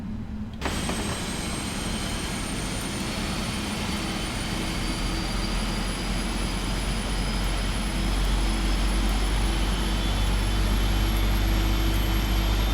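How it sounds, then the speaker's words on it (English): A Boeing 777F jet engine spools up in the PMDG flight simulator, a loud steady roar with a rising high whine that climbs and holds over about thirteen seconds, deepening slightly toward the end. "starting engine number 2"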